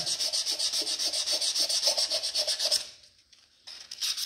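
Sandpaper scrubbing an engine cylinder head by hand, a quick rhythmic back-and-forth rasp with steady strokes, close and fairly loud, pausing briefly before resuming.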